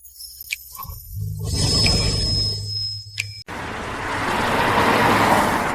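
Car driving off, low engine rumble building up as it pulls away, then a sudden cut to steady road and traffic noise.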